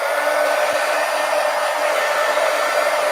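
A hair dryer blows hot air over a watercolor painting, a loud, steady whooshing hiss held close and unbroken throughout, with no talking.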